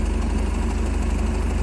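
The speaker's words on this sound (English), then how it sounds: "it's idling right about where it should" A 1987 Bayliner Capri boat engine fitted with Holley Super Sniper 2300 EFI idles with a steady, rapid low throb and even rumble, loud and close, with no talking.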